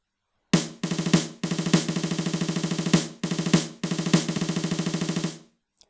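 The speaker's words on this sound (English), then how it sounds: "So now this is played on a snare drum and it sounds like this." A rapid, machine-like snare drum pattern with dense repeated hits in bursts separated by short gaps, loud and close, with no voices.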